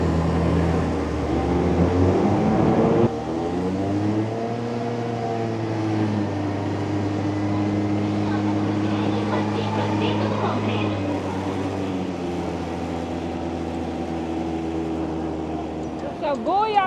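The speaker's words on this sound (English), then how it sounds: "So come with us as we ride go-karts through Tokyo." Go-karts ride through Tokyo streets near Shibuya, their small engines droning as a steady whine that rises and falls in pitch with speed, under ongoing talk from riders.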